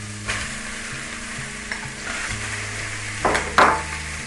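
Pineapple drops into cabbage frying in a pot, giving a steady sizzle with stirring scrapes and a couple of louder clatters near the end, close up and without talk.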